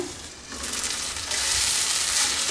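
Soya chunk roast with softened tomato cooking in a covered pan, giving a steady close sizzle and hiss that grows slightly louder partway through, with no talking.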